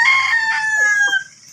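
A fighting rooster crows once, close and loud, a single bright, drawn-out cock-a-doodle-doo that breaks off abruptly.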